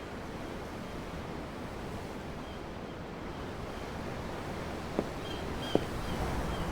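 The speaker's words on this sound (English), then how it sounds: "The waves. They help me think." Ocean waves in the video game Tales of Arise wash steadily in a soft, continuous surf, with wind over the water and no voices.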